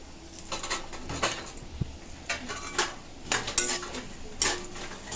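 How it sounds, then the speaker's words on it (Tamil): Cashews are stirred in a pan for payasam with a metal spoon, scraping and clinking in irregular bursts at close range, moderately loud, with no voices. "முந்திரி போட்டுட்டு நல்லா இந்த மாதிரி மிக்ஸ் பண்ணி விட்டுடலாம்"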